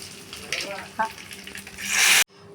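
Tempering sizzles and fries in a pan as dal is added for a tomato dal dish, a steady crackling hiss that swells loudly near the end before cutting off abruptly.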